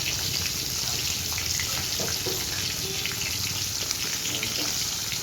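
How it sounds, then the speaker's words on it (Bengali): Kangla fish frying in oil for a Bengali fish curry, heard as a continuous, even hiss of sizzling at close range, with no clear speech over it. "চলো মাছ ভাজাটা হতে থাক"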